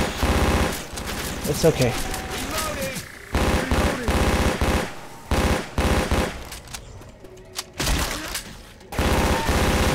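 Rapid gunfire in Left 4 Dead 2 on PC in a haunted forest: loud, dense bursts of automatic fire come in repeated volleys with short gaps, while a voice talks briefly between the shots.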